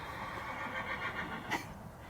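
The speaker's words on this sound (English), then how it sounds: "you'll hear a little whinnying horse in the background" A horse whinnying outdoors, calling for a companion that has been taken away, a faint, somewhat distant neigh with a brief louder burst partway through.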